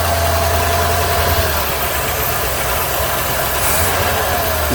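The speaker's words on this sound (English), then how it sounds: "1200 RPM. It's on fast idle." A 1981 GM engine with a Dual Jet carburetor runs on fast idle at about 1200 RPM, a steady, loud, close rumble with a slight knock and vibration, no talking.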